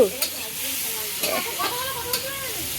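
Food sizzling on a picnic stove outdoors in winter, a steady frying hiss with a few utensil clinks and voices talking over it.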